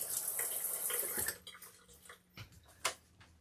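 Tap water runs steadily while hands are rinsed at a kitchen sink, then cuts off, leaving a few faint drips and small clinks nearby.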